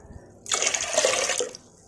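Water pours steadily into a pot of washed lentils (dal for sambar) for about a second, a close, splashing fill that stops abruptly.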